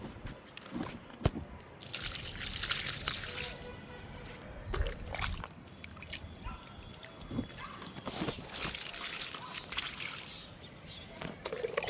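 Liquid fertilizer made from kitchen waste is poured onto a potted lemon plant, with soft splashing, trickling and dribbling sounds, some knocks and handling noises, close and fairly quiet.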